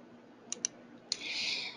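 Mouse clicks in Adobe Illustrator on a computer: two quick, sharp clicks close together, a third click a moment later, then a soft hiss of background noise, with no talking.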